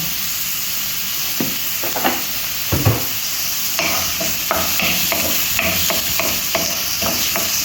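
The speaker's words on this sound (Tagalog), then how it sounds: "lagyan na natin lahat mixing mixing lang natin guys ano yan lagyan natin kunting oil" Ground beef sizzles in a little oil while it is stirred and mixed for a dish with chayote and carrots, a steady frying hiss close by with repeated scraping and clanking of a spatula against the pan and no talking.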